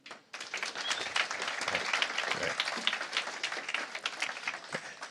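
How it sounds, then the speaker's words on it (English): Audience applause at a startup pitch night, breaking out suddenly and holding as a dense, full crowd clap for about five seconds before starting to thin near the end. "So big round of applause to Startup TNT."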